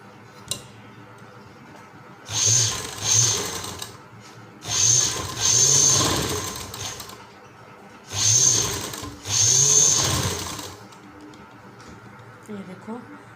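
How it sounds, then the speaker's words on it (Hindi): A sewing machine stitches the hem of a pant leg, running in four loud bursts of a couple of seconds each, with quiet pauses between them, close by. "ये देखो, ऐसे ही अब हम सिलाई लगाते जाऊंगी।"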